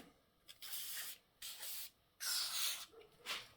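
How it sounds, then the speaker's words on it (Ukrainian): Short hissing bursts of aerosol lubricant sprayed onto the brake parts of an Audi A6 C5 during a repair, four separate puffs of varying length with brief pauses between them, close and fairly quiet, with no talking. "вичищаємо, пшикаємо цей же самий смазкою все."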